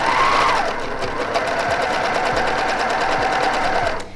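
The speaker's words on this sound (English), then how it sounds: "When you're stitching with an overlock machine, because there is a blade, you have to be very careful" An overlock serger machine stitches a serged edge along a seam, a steady fast mechanical whir with rapid rhythmic clatter running continuously before stopping near the end, close and loud.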